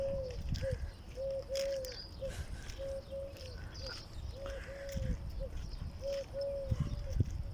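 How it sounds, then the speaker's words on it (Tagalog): A bird outdoors on a walk in Doha, Qatar calls in a series of soft repeated coos at a steady rhythm, fairly clear above low rumbling background noise and faint other chirps. "Ganda, kumakanta na yung ibon."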